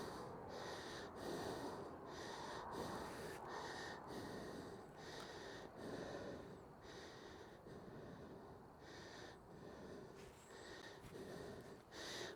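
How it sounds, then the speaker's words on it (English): Heavy, rapid breathing into a microphone during mountain biking, loud rhythmic huffs and gasps every half second or so, close to the mic over rushing wind and trail noise. "this is really loud when I'm breathing hard"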